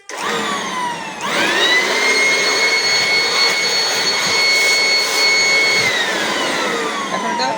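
A vacuum blower machine, the kind used to blow away dust and sand, starts up at about one second and then roars steadily with a loud, high whine that holds level throughout.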